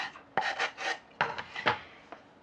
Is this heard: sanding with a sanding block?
yes